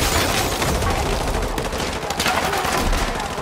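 Dense, sustained gunfire in Modern Warfare 2 Remastered, a loud continuous barrage of rapid shots and bursts blending into a roar with no clear pauses.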